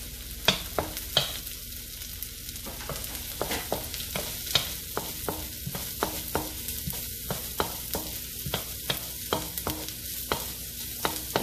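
Garlic fries in a pan for a native chicken dish, a constant crackling sizzle punctuated by regular scraping strokes of a spatula stirring it, no voices.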